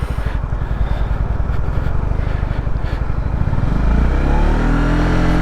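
Honda CB125R single-cylinder engine thumping at a quick idle, then revved up into a rising, steady drone close to the microphone.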